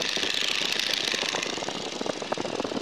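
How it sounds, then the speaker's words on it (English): A small airplane's engine drones steadily in flight, close by with a fine rapid rattle, constant and loud throughout with no voices. "I like listening to that engine."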